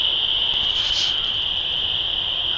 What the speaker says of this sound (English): the tree frogs are so loud